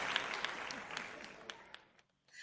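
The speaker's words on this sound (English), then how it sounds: "give me that golf clap next, girl." A light scattering of polite claps from a small audience, soft and sparse, tapering off before a brief silence and a return of room noise.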